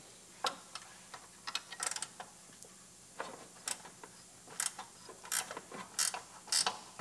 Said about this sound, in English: reach in there and unbolt our bumper shock